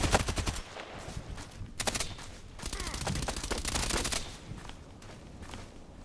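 Rapid bursts of FN P90 submachine gun fire in the online shooter Contract Wars, several quick automatic strings separated by short pauses, loud and close with no talk.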